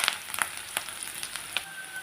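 Spices sizzle in hot oil in a pan while a banana stem and horse gram poriyal is being cooked, with sharp crackles and pops over a soft, steady frying hiss close by.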